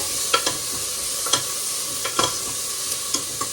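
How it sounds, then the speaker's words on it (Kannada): Onion and garlic sauté in a pan for mutton chops, giving a close, steady sizzle broken by brisk scraping stirs of a spatula; there is no talking. "ಆ ಈರುಳ್ಳಿ ಆ ಬೆಳ್ಳುಳ್ಳಿ ಹಾಕಿದಾದ್ಮೇಲೆ ಸ್ವಲ್ಪ ಬಾಡಿಸ್ಬೇಕಷ್ಟೆ"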